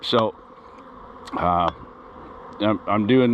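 A low, steady buzzing of aggressive honey bees during a nectar dearth hums in the background while a person speaks in short bursts over it.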